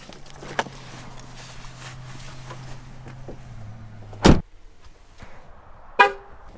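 Cars move through a busy parking lot at Canyonlands National Park. A low engine hum runs underneath, with a faint tap early on and two sharp, loud bangs, like a door slam or a short horn, near the end.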